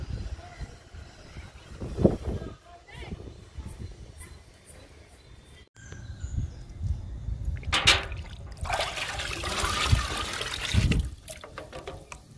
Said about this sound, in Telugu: ఈ లిక్విడ్ ఫర్టిలైజర్ మొక్కలకి ఇచ్చేద్దాము